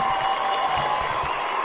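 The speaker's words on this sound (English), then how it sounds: "The crowd is going crazy." Crowd applause and cheering effect on a live comedy stream, a faint, steady wash of clapping with a light murmur of voices, played at low level throughout.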